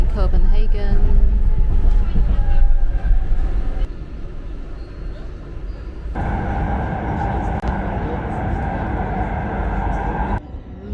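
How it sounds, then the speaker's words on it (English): A Copenhagen metro train rumbles along in a loud, continuous ride, with a shift in pitch and roar midway as it moves through the line, and voices can be heard over it. "This is the metro in Copenhagen."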